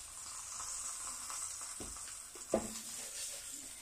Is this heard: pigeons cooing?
no